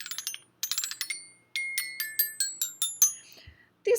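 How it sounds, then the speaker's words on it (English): Small xylophone struck by hand, a quick run of bright ringing notes followed by a steadier sequence of single strikes, each with a sharp attack and short decay, close and clear with no talk. "So I've got a little xylophone."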